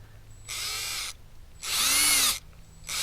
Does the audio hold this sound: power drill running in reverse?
yes